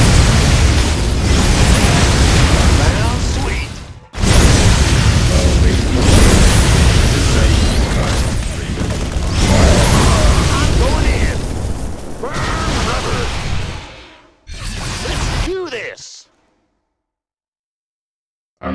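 Repeated napalm explosions and mechanical clatter in a StarCraft II 2v2 melee match, loud, dense bursts filling most of the stretch with short gaps, then cutting to silence near the end; game voices are mixed in.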